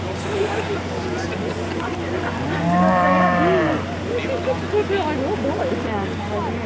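Cow being shown at a 1993 4-H livestock show lets out a loud, drawn-out moo near the middle, over steady background hum and people talking nearby.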